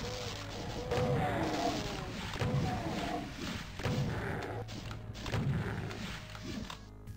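Gunfire aimed at a chain gunner in Final Doom: Plutonia: heavy, booming shots land in repeated bursts about every second, with thudding impacts over a steady, noisy game backdrop.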